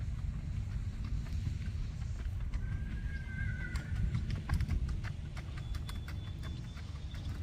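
Steady hoofbeats of a Tennessee Walking Horse gelding in a flat walk, an even rhythm on hard ground, with constant low background noise and no talking.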